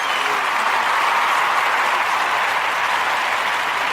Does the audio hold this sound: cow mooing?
no